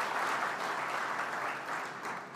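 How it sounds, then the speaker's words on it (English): Audience at a banking and finance conference applauding honoured guests, a dense, even burst of many hands clapping at once, steady and fairly loud from the room, with no talk over it. "Please, let's give them a round of applause, please."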